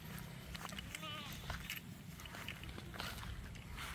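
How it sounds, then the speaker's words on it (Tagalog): Goats on a farm give a short wavering bleat amid rustling, footsteps and outdoor background noise, faint and at a moderate distance. "Ayan, nandito po yung ating mga kambing ngayon."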